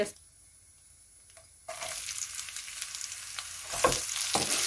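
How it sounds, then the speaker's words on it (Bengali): Whole spices with bay leaf fry in oil, a soft sizzle that jumps louder as they hit the pan, crackling steadily up close with a few sharper pops. "ওই তেলের মধ্যেই তেজপাতা সহ এই মশলাগুলি ভেজে নিব।"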